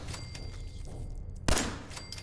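Gunfire in the video game Fallout 4: one sharp, loud shot bursts out midway above a low game ambience, with a short decaying tail afterward.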